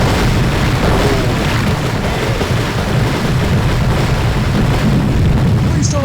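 Bombs exploding on docks, an oil store and warehouses in a World War II bomber flight game, heard as a loud, continuous rumbling roar of blasts with no pauses.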